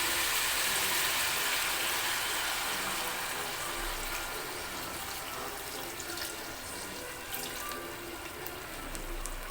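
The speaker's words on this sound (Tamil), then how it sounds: "இப்போ கொஞ்சமாக தண்ணி சேர்த்துக்கிறேன்." A little water poured into a pan of Pallipalayam chicken, a continuous close rushing splash that stays steady for several seconds and eases slightly toward the end, no voices.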